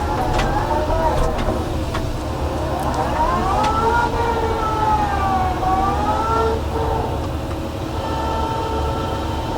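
A heavy PC120-8 excavator engine drones steadily while a wavering hydraulic whine rises and falls as the upper body swings around.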